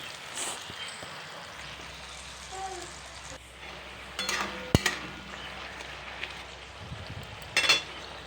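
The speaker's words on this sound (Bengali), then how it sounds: "এই পেঁয়াজ রসুন আদা পেস্টটা এখন ভালো করে এক মিনিটের মতো নাড়াচাড়া করে নেবো" Onion, garlic and ginger paste being stirred and fried in a pan for a Bengali-style mutton curry, a soft steady sizzle with occasional scraping and clinking of the spoon against the pan, heard close.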